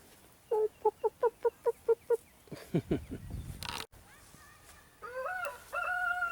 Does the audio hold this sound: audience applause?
no